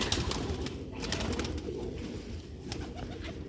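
Sialkoti red-pearl pigeon chicks coo in soft, continuous murmurs throughout, close and fairly quiet, with no talking.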